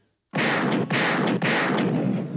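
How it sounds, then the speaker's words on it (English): Three loud, close gunshot bursts in quick succession, each a sharp crack followed by a brief roaring tail, after a moment of near silence. "Gunshots in the air."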